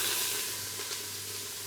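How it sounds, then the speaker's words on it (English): Olive oil sizzles and hisses steadily in a hot pan on a kitchen stove, a dense close crackle holding level throughout with no talk. "I want to hear that sizzle"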